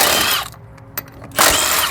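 A Milwaukee power tool zips in short bursts as it takes the wheels off a Ram Charger. Two loud whirs sit either side of a brief quieter gap with a clack, all close up.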